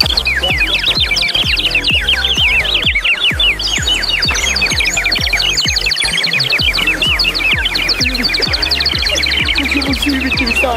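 Birds near a waterfall at Kent Şelalesi in Fethiye sing continuously in a loud, dense chorus of rapid chirps and trills, layered over a steady rush of water, with no other sound taking over.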